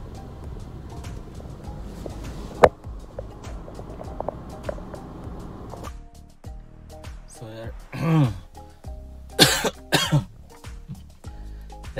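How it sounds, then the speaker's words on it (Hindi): A few harsh coughs and throat-clearing bursts near the end, close and fairly loud, after a stretch of quieter background noise with a sharp knock. "तो खांसी खांसी आ रही है हल्की फुल्की।"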